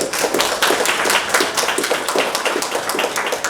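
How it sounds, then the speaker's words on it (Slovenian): Audience applause at the opening of a Widex hearing centre in Jesenice, a steady patter of many hands clapping close by and filling the room for several seconds, with no talk over it. "Dajmo na aplavz za gospoda Petra."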